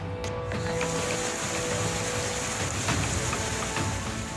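Heavy rain pours steadily over flood-hit Malkangiri in Odisha, a dense, continuous hiss of falling water with no voices and no clear breaks.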